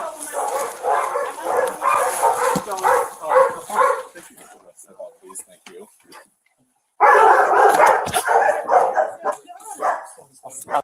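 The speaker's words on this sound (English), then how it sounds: "they can hear the dogs, and it's driving them crazy" Several dogs bark and yip in loud bursts indoors, with a pause midway before the barking returns; people talk over the commotion.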